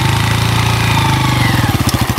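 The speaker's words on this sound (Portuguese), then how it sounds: "Arranca a moto." Motorcycle engine running close and loud, its steady putter growing into a quicker, pulsing beat as the bike pulls away over about two seconds.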